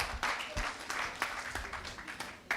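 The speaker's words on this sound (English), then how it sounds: "Clap for her." An audience claps at an International Human Rights Week 2024 event: dense, fairly close applause from many hands, sustained through the whole stretch without voices.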